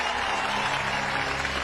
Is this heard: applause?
yes